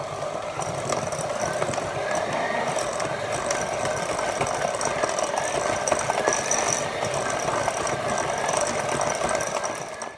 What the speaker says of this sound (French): je vais mélanger avec mon batteur électrique. Alors attention, ça va faire un peu de bruit.